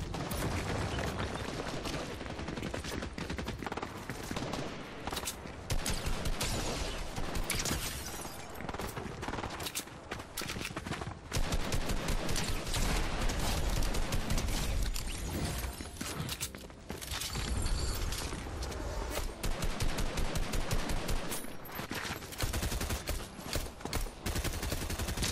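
Dense gunfire from a Fortnite no-build solo match: rapid bursts and volleys of shots that come loud and near, with short lulls between clusters.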